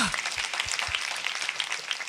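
Brief applause from a church youth congregation during a Korean sermon, a dense steady patter of claps lasting about two seconds.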